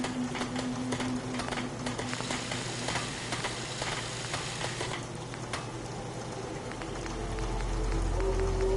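Steady rain in Fallout 4 pours down as a dense, even hiss, with a faint tonal hum running underneath and a low rumble swelling near the end; no one speaks.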